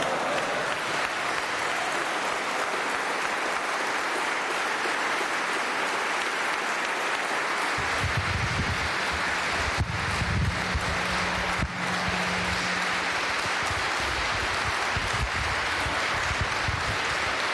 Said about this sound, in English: Let's give him a warm round of applause, the Honorable Louis Farrakhan.